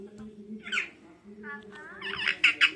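A pet parrot, agitated at the sight of another bird, lets out harsh squawks in a few close, loud bursts, with softer calls between them and a low indoor hum underneath.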